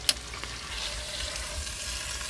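A pork loin roast browning in a Dutch oven, a soft continuous sizzle close by after a single sharp clack at the start.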